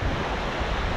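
Waves wash steadily on a beach on the island of Rhodes, a dense, continuous surf roar with some wind rumble, close and fairly loud throughout.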